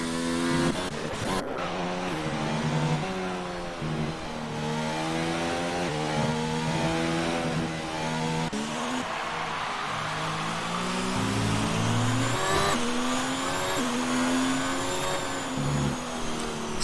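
F1 cars on out laps in F1 2019 at the Mexican Grand Prix: engines whine steadily through rising and falling gear shifts, several cars overlapping near and far, with no voices over the motors.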